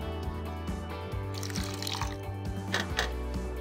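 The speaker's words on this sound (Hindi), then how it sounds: "थोड़ा इसमें पानी डाल दीजिए" Water poured into a bowl of set cream while churning it for homemade ghee, a continuous soft splash and trickle over a low steady hum, with faint clinks and no talk.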